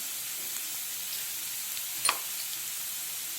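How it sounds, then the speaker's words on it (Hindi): Steady sizzling of garlic frying in a pan, a soft continuous hiss with a brief stir or clink near the middle. "अच्छे से भून लेते हैं लहसुन की कच्ची स्मेल जाने के लिए।"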